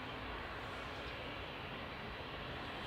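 A Boeing 757 taxiing at Manchester Airport gives off a steady, broad jet engine roar at a distance, unbroken and even throughout.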